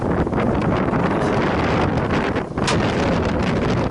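Strong storm wind blasts across the microphone outdoors, a continuous loud roaring buffet with a brief lull midway before gusting back up.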